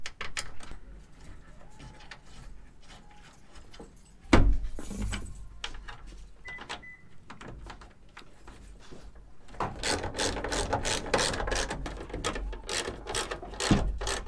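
Ratchet clicking as 10mm bolts are tightened on a Toyota Tacoma tail light, close by, with a sharp clunk midway and a denser burst of rapid ratcheting toward the end.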